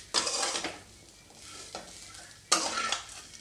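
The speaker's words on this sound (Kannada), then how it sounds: "ಒಂದು 2 ಟೀ ಸ್ಪೂನ್ ಆಗುವಷ್ಟು ಎಣ್ಣೆ ಹಾಕ್ಕೊಂಡು ಮತ್ತು ಫ್ರೈ ಮಾಡ್ಕೊಳ್ಳೋಣ" Tomatoes fry in oil in a pan for a raw tomato chutney, a spoon scraping and stirring in two loud bursts with a softer stir between, faint sizzling underneath, no voices.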